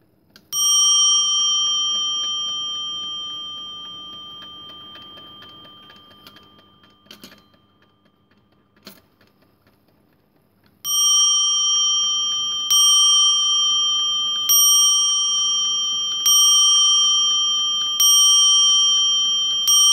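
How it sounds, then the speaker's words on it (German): Mantel clock's freshly mounted gong struck repeatedly, a bright ringing tone that decays slowly after a first stroke, then after a pause five more strokes spaced evenly about every two seconds, each loud and close. "Ich löse den Schlag für euch aus."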